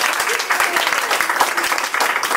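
An audience at a Toastmasters club meeting applauds a first-time timer, with steady, dense clapping throughout and voices faintly mixed in.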